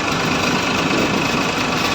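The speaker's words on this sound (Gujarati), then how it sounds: "ट्रैक्टर ने हमेशा रिवर्स गियर में રાખવાનું है ना" A tractor engine idles in a steady, unbroken drone with a low rumbling vibration, holding an even level throughout with no voices.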